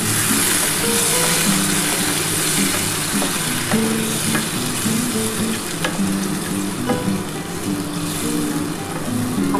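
Masala sizzles and fries steadily in a pan as spiced water goes in for a yam and potato curry, a loud continuous crackle with occasional stirring clinks and no talk.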